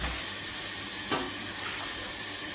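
Potatoes are washed under a running tap, with a steady close hiss of flowing water and a brief splashy burst partway through.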